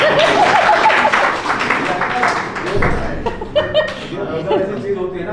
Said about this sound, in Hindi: तालियां थोड़ा कम आ रही है सर।